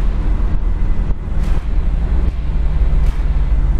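A 1963 Corvette Split Window engine runs loud and steady at speed, a deep continuous roar with wind rush and slight rises in pitch.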